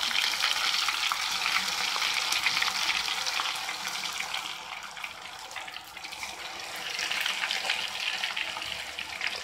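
Ginger and garlic frying in oil in a pan, a continuous dense sizzle and crackle that swells and eases slightly, close and steady, with no voices.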